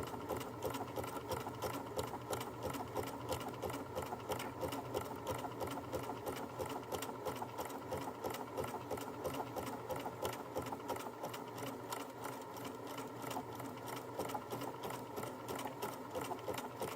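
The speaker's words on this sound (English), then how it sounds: "So I'll let it sew." Home sewing machine stitching a buttonhole on a Kwik Sew hoodie, a constant fast mechanical whir with a rapid even needle rhythm that runs steadily and loudly throughout.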